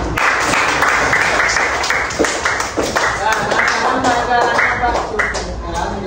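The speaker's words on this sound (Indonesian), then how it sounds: "Dan kasih tepuk tangan." Schoolchildren in an Indonesian classroom clap together during a Pancasila civics lesson, a busy, close round of hand claps that runs the whole time with a little shuffling.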